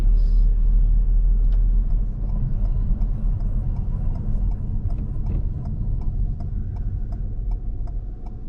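Car driving during a mock driving test, a steady low cabin rumble of the engine and road with a faint regular ticking, likely the indicator, in the later part.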